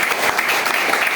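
A crowd claps together in a dense, loud, continuous burst that fills the whole short stretch, heard close with no break.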